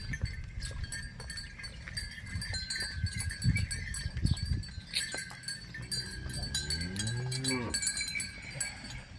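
Cows at a dairy farm in Sangamner stir in their shed, cowbells clinking and clanking softly and irregularly, with a long, low moo rising near the end amid faint background shuffling.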